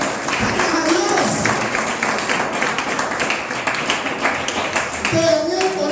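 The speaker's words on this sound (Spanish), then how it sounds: "Dale un aplauso al Señor. Vamos, vamos, vamos, fuerte." A church congregation claps during a prayer service, steady rhythmic hand clapping from many people filling the room, with voices calling out over it throughout.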